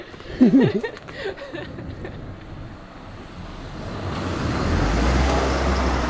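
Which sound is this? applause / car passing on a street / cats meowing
car passing on a street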